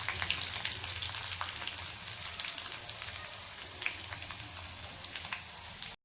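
Garlic and curry leaves fry in hot oil with a soft, even crackling sizzle like light rain, steady and close for several seconds before a sudden stop.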